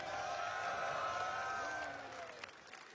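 A large audience cheers and claps at an Evo fighting-game tournament, a steady loud roar that fades in the last second, with an announcer's voice ringing over it.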